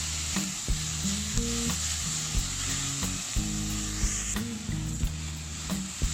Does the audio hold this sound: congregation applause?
no